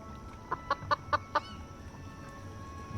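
A chicken in the video game Foolish Mortals gives five quick, evenly spaced clucks, clear and close, then falls quiet over a low background hum.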